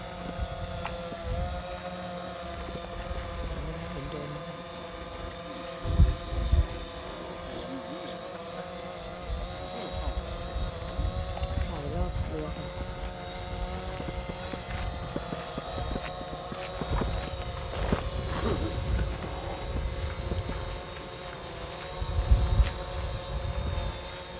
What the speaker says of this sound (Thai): ใช้บินโดรนบินขึ้นไปถ่ายรูปนะคะ